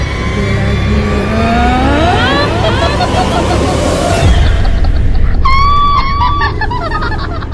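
Heavy road traffic jam on a snowy mountain route to Patnitop, with a steady engine and road rumble inside a car and a chorus of horns honking repeatedly, some long and some short, close by.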